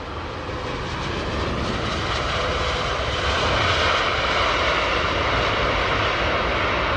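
A China Southern airliner jet passing at Heathrow gives a loud, steady engine roar that swells over several seconds and holds near, with no talk over it.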